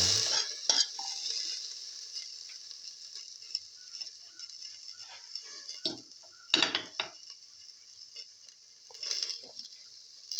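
Food sautéing in a pan for a scrambled egg, potato and fenugreek leaf dish: a steady high sizzle with a few sharp utensil scrapes and knocks against the pan partway through.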